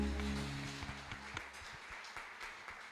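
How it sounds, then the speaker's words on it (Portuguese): A church congregation applauds steadily, a dense wash of clapping that fades a little, over a lingering low musical drone from the service. "Pode aplaudir a Jesus nesta noite"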